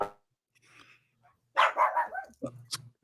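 Dogs bark indoors in a few short, close bursts, with a brief yip between them. The barks come in the background of a recorded conversation.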